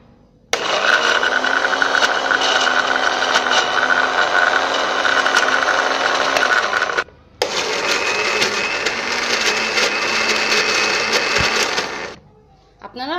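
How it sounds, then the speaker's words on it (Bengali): A blender whirs through coriander leaves in a close, loud, continuous motor drone, cut off briefly near the middle before a second long run that ends abruptly. "আমি ব্লেন্ডারের একটি কাপে এই ধনে পাতাগুলো নিয়ে এনেছি,"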